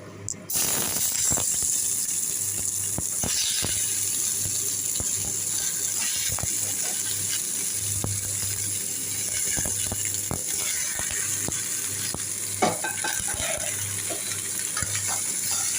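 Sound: tomatoes frying in oil for chutney

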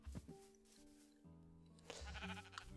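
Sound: sheep bleating in Minecraft video game

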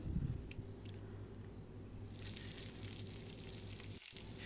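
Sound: brinjals frying in a covered pan

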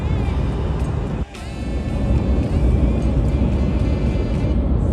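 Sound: Renault Clio 5 1.0 SCe car engine while driving on highway

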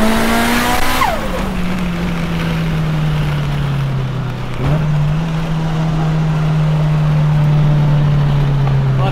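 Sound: Mitsubishi Evo race car driving fast, tires squealing

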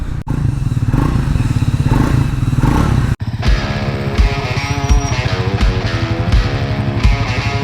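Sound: Triumph Speed 400 motorcycle engine

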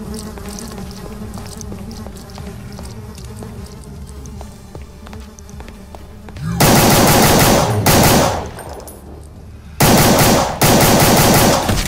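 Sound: pistol gunfire in the video game Brutal Doom SIGIL

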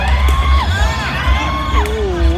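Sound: home crowd cheering at sepak takraw match

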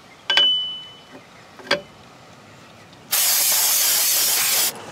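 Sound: brake cleaner spray

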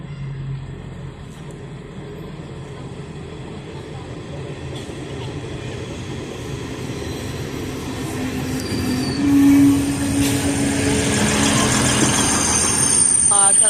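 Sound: train passing

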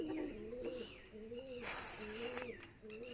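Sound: pigeons cooing

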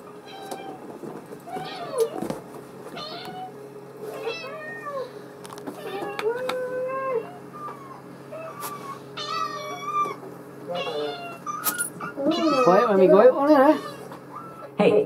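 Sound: cat meowing

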